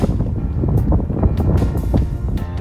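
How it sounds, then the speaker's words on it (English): Strong wind gusting across a riverside near a bridge, buffeting the microphone with a steady low roar and rumble throughout, no voices. "It's a windy, windy day."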